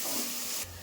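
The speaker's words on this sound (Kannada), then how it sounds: "ಚೆನ್ನಾಗಿ ಫ್ರೈ ಮಾಡ್ಕೊಳ್ಳೋಣ" Ginger-garlic paste, curry leaves and sliced onions fry in a hot pan, giving a loud, broad sizzling hiss that drops off abruptly after a brief burst.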